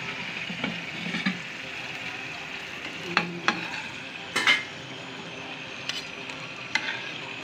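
Potato slices fry in a pan with a steady hiss and sizzle, broken by several sharp scraping clicks and clatters as they are stirred and turned, all close by and without any talk.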